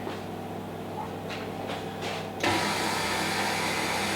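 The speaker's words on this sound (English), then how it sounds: "Turn on the mixer to the lowest setting." Stand mixer starting up on its lowest speed, mixing bao dough: a steady motor hum with a few faint rising whirs before it settles into a louder, even drone that runs to the end, with no talking.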